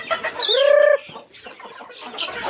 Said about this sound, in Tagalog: hindi na makakakain yung ibang kakahig natin gawa na nag-aaway sila